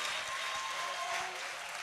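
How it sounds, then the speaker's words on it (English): Audience at a polytechnic valedictory lecture applauding, a steady wash of many hands clapping that sounds moderately distant and holds evenly through the whole clip with no voices. "please a round of applause."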